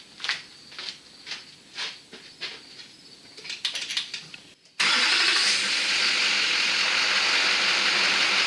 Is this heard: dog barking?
no